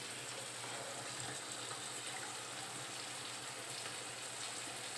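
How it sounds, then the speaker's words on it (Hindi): Water draining off boiled noodles for Hakka noodles in a home kitchen makes a constant, even rushing pour, moderately close and unbroken, with no talking. "ये नूडल्स का सारा पानी निकाल देंगे।"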